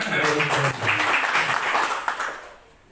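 Church congregation applauding during a worship service, a dense burst of clapping mixed with voices that holds steady, then tapers off and fades out.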